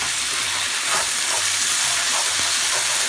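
Rice frying in a pan with tomato sauce added, a steady close sizzle with faint stirring scrapes running throughout without talk.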